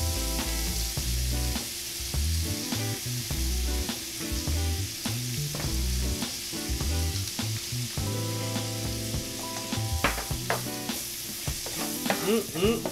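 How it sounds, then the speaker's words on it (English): Chopped onions sizzle and fry in rendered bacon fat for a fancy burger, with steady crackling and spatter plus repeated stirring scrapes and clanks of a utensil in the pan, close and fairly loud, with no talking. "We're going to basically cook it in that rendered out bacon fat."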